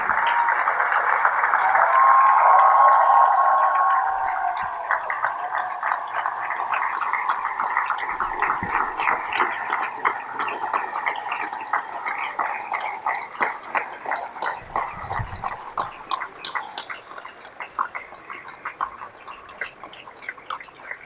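A convocation audience applauding graduates' parents, a loud swelling wash of clapping that peaks early, then thins into scattered claps fading over about twenty seconds.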